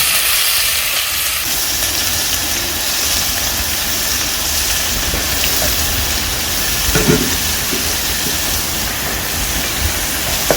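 Onion, green chilli and tomato cook together in a pan, giving a steady, close sizzle with a broad hiss that holds level for the whole stretch, broken by a few faint clinks near the end.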